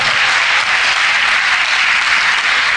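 A church congregation applauds the Lord with loud, dense, continuous clapping that fills the space evenly from start to finish, with no voices standing out.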